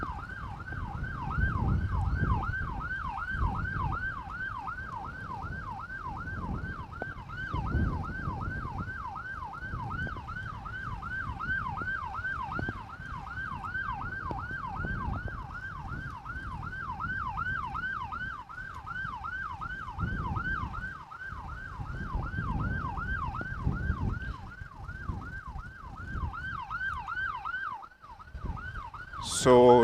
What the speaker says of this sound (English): that's why you would have heard the siren there behind me.